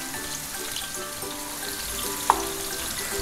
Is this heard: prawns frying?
yes